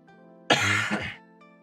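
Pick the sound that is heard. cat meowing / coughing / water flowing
coughing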